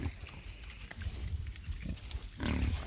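Pigs, including piglets and kunekune, grunt and snuffle close by on a farm, with repeated low grunts and a louder burst of rooting noise near the end, no talking.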